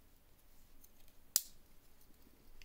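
Small scissors on a Spydernox Vagabond multitool with anodized titanium scales giving one sharp, crisp snip, close and isolated against a quiet background.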